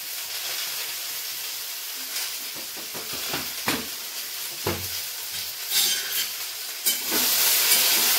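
Vegetables frying in a pan with salt, a constant hissing sizzle broken by scattered stirring knocks and scrapes, growing louder toward the end.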